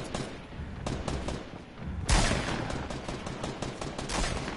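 Gunfire in a video game: dense bursts of rapid shots crackle continuously, with a louder burst of fire or an impact near the middle, all at a steady, moderately loud level.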